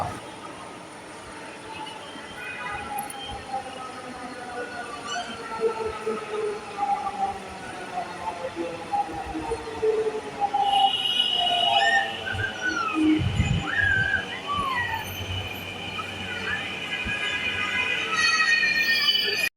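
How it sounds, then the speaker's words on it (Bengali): A metro train rumbles and whines along the track with a rising, droning hum that grows louder toward the end, heard from inside or nearby. "কিছুক্ষণ পর পর একের পর এক ট্রেন আসা যাওয়া করছে"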